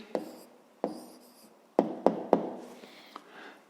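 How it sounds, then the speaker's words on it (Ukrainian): An answer to a fifth-grade math exercise being written out by hand, a series of distinct pen taps and scratchy strokes at irregular intervals, close and clear with no talking. "Ну що ж, записуємо тоді відповідь."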